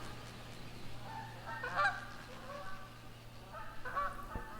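Canada geese honk in a few distant bursts over a low steady hum, calls clustering around the middle and end, with no voices.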